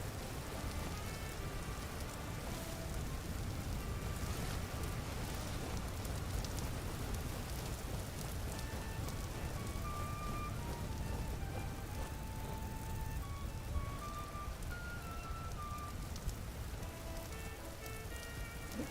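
Steady rain falls in the survival video game Vintage Story, a continuous patter that runs unbroken throughout with faint tonal game sounds above it.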